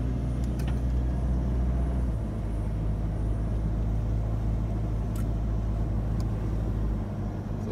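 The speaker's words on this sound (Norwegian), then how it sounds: "Grunnen til det er at bilen må jobbe litt for å grave seg gjennom." Vehicle grinds slowly through deep sand on a Kalahari track in Botswana, its engine a loud, steady, labouring drone throughout, with a brief shift in pitch partway through.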